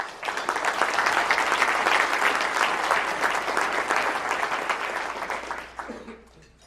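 Applause from the audience at a Rotary club meeting, welcoming a guest speaker; steady clapping from many hands sustained for several seconds before tapering off near the end.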